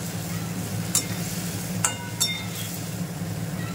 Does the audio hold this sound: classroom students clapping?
no